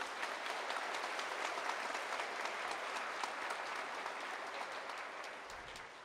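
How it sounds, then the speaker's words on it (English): Dense, sustained applause from a large commencement crowd honoring graduating honors students, a continuous wash of many hands clapping at even loudness throughout, tapering slightly near the end, with no voices over it. "Let's recognize with our applause one more time all of our honors graduates"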